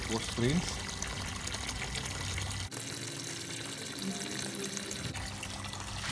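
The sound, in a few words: backwash rinse water flowing from water filter 1054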